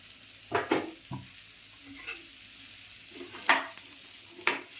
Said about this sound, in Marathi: आता मी कांदा भाजून घेते पहिल्यांदा. कांदा छान असा मस्त खरपूस भाजून घ्यायचा.